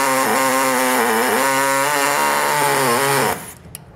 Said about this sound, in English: So if you have a Sawzall, I think that's gonna be the best tool for this.